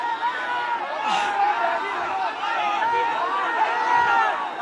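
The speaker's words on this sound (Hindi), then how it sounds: "भीड़ उग्र हो गई है, पुलिस की ओर से लाठीचार्ज हुआ है।" An agitated crowd of student protesters mills around during a police baton charge near parliament, with dense overlapping voices and shouting close by, loud and continuous throughout.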